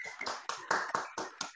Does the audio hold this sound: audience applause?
yes